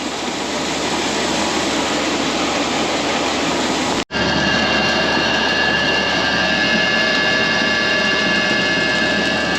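Grain augers running loud and close as they load canola and cornmeal cattle feed on a dairy farm, a dense continuous mechanical roar with a brief cut near the middle.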